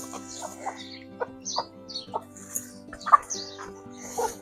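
Several chickens cluck in short, scattered bursts close by, soft chatter against a quiet background hum.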